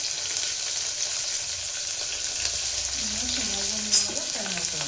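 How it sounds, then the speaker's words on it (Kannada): Chopped onion with ginger-garlic paste sizzles in a hot pan for methi pulao, a steady close frying hiss with occasional stirring scrapes, and a voice speaks briefly toward the end. "ಚೆನ್ನಾಗಿ ಫ್ರೈ ಮಾಡ್ಕೊಳ್ಳೋಣ."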